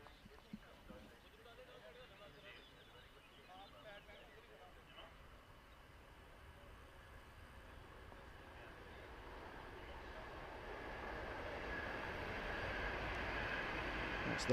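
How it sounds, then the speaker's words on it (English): A train passes beside a T10 cricket ground. Its faint rumble grows slowly louder and ends in a steady, rising roar. "That's the horn, and then there goes the train."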